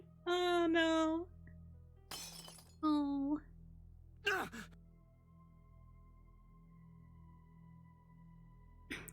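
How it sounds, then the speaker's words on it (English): A mirror smashes with a sharp glass crash in a dramatic monster story scene, a brief loud shatter between short voiced gasps and a sung-like tone, followed by a faint sustained hum. "With a crash, he smashed the mirror"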